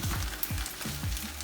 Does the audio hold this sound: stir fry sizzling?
yes